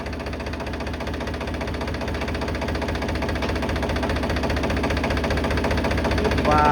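A tractor engine runs steadily nearby with a throbbing, even rhythm that grows slightly louder over time, and voices talk faintly over it.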